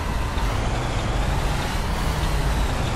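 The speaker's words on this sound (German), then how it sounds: "Aber gefühlt sehr laut der Bus" Coach bus engine driving in Fernbus Simulator, a loud, steady low drone of the motor and road noise, constant and close with no talk.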